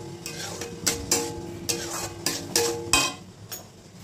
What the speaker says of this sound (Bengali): 2-3 মিনিট ধরে কষিয়ে নিলাম মশলাটাকে